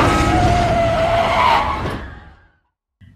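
In a film scene, a car skids with a screech of tyres and engine roar as it strikes a person crossing the road, the loud noise fading out into silence before a faint knock at the end.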